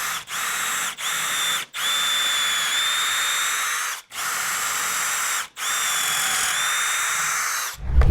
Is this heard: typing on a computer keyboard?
no